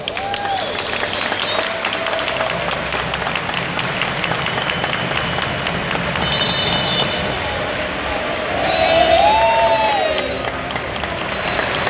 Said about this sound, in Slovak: Ešte raz veľký potlesk pre našho bývalého hráča Jana Nezimu.